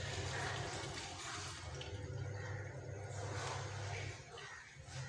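Water runs steadily while fennel and carom seeds are rinsed at home, a continuous rushing, splashing flow that fills the whole stretch at close range and eases slightly near the end.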